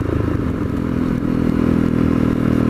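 A Honda CRF250L motorcycle engine drones loud and steady while ridden on local roads, with a slight rise in revs and a few clattering knocks over the running note.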